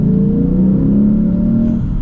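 A 2025 Lexus IS 500 with its V8 engine revving hard, a loud, close, rising growl that climbs smoothly in pitch over about two seconds.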